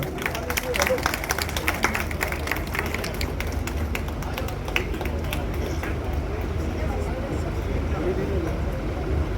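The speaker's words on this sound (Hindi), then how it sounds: "एक बार जोरदार तालियां।" Audience at a poetry gathering clapping under a rumbling, noisy background, the claps rising early and then thinning out as the noise continues.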